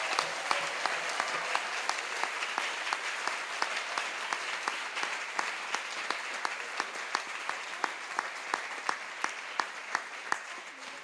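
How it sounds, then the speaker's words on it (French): A church congregation claps during a sermon, a continuous crowd applause that settles into a regular rhythmic beat of unison claps, heard at a moderate distance and fairly soft. "Applaudissez pour le Seigneur."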